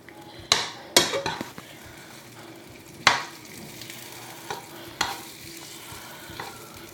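Food cooks in a pan on the stove, a low continuous sizzle broken by several sharp clacks and scrapes of a utensil stirring against the pan, close and fairly loud.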